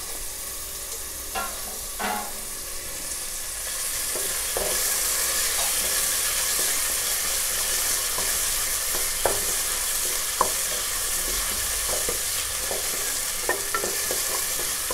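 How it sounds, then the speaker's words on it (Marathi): Onion and tomato sauté in a pan for a prawn rice dish, a steady frying hiss with sharp scraping taps as they are stirred, close and continuous, no voices. "चांगला परतून घ्यायचा, नंतर खाली लागेल कांदा ना, म्हणून असा परतत राहायचा"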